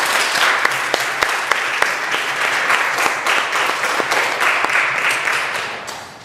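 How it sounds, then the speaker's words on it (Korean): A church congregation applauds a performance by its young adults during a Sunday service, dense steady clapping filling the room from start to finish with a few sharper individual claps standing out. "다시 한번 우리 박수로 큰 격려"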